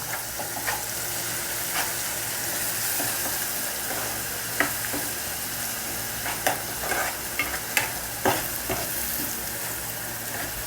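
Masala paste frying in a pan for Telangana-style fish curry, a steady loud sizzle with a spoon scraping and stirring throughout in irregular strokes.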